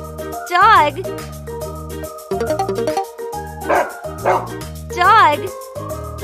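Dog barking sounds from a children's animal flashcard lesson, short yips and bow-wows in a few bursts over a background of bright music, with a child-like voice also present.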